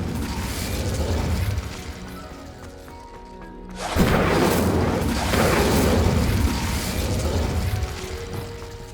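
A fire spell is cast in the Hogwarts Legacy video game, with a sudden burst at about four seconds that swells into a loud, roaring whoosh and crackle over steady game music and ambience.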